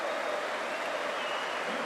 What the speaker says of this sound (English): Warm applause all round St Andrews for his efforts on his debut.